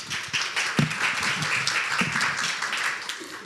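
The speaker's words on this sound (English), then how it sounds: "One more applause." Applause from a small audience at a cybersecurity meetup after a Q&A, with steady dense clapping throughout and a few sharper individual claps standing out.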